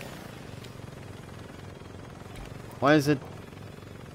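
A helicopter in the video game Saints Row 2 hums as a steady low rotor drone beneath someone talking, with a brief louder vocal burst near the end.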